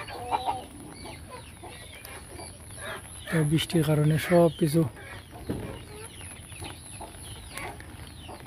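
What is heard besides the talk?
chickens clucking on a farm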